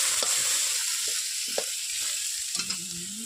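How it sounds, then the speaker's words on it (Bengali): Small fish of a three-spined kind fry in hot oil with a steady, close hiss, broken now and then by brief clinks and stirring knocks from a utensil. "তার জন্য মাছগুলো সুন্দর করে ভেজে নিই।"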